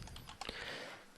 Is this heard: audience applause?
no